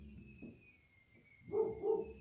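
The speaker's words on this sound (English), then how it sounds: "I apologize for my dog." A pet dog barks twice in quick succession near the end, a pair of close, moderately loud yaps over a quiet room with a faint steady whine in the background.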